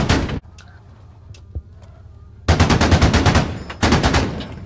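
In the military shooter Squad, automatic gunfire rattles in two loud, close bursts of rapid evenly spaced shots, after a short opening burst and a quieter stretch with a few distant pops.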